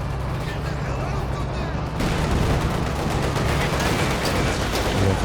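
Tank and infantry combat from the Company of Heroes 2 strategy game, with a Panzer IV, a 222 armored car and a KV-1 engaging: dense, continuous gunfire and cannon booms rumble throughout, swelling louder after a sharp shot near two seconds, under commentary.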